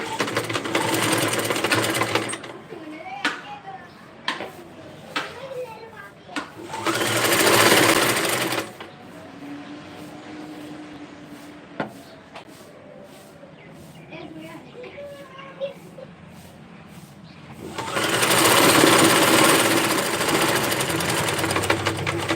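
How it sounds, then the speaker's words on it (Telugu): A sewing machine stitches a saree blouse in bursts of steady, close, loud whirring, alternating with quieter stretches where someone talks and handles the cloth. "ఇక్కడికైతే స్టిచ్చింగ్ వేస్తున్నానండి."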